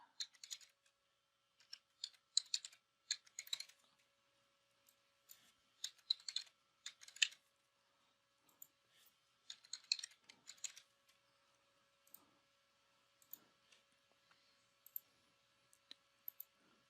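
A computer keyboard is typed on in short bursts while a password is entered, quiet close-up key clicks coming in clusters separated by pauses.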